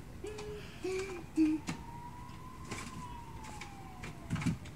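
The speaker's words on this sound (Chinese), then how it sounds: "消防车已到场。" A fire engine siren at a boat fire in Badouzi harbour sounds in the distance as one long, slowly rising and falling wail, with a few short electronic tones and brief clunks heard earlier.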